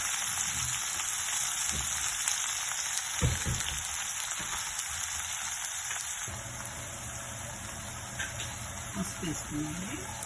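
Fenugreek leaves fry in oil in a pan with a steady, hissing sizzle like light rain, close and continuous, with a few clinks and a voice speaking faintly underneath.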